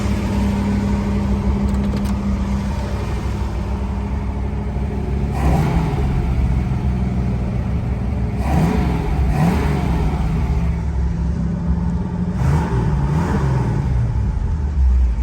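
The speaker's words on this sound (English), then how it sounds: "Okay, got the choke off. Now you can hear the engine." A 1968 Ford Mustang Cobra Jet V8 engine rumbles steadily up close with the choke off, several throaty revs swelling and falling back to a low, deep idle.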